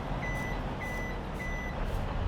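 In Farming Simulator 22, a truck reversing sounds its backup alarm: three evenly spaced high beeps ring out over a loud, continuous engine drone.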